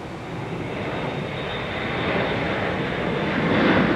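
A jet airplane roars steadily at Minneapolis–St. Paul Airport, a broad engine rush that swells slightly louder toward the end, with no talk over it.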